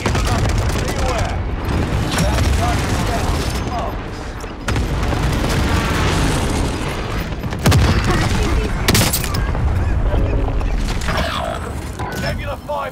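A Nebula 5 bomb detonates in Call of Duty Warzone Pacific, producing a loud, sustained rumbling barrage of blasts and gunfire. Sharp bursts come through, and game voices are heard at times.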